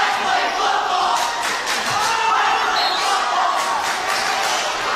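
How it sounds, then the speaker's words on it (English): A dense, loud crowd fills the gym at a boys varsity basketball game between Clinton and Hudson. Voices overlap and chant continuously, with scattered shouts and ball bounces throughout. "Looks like the crowds are really getting into it with each other."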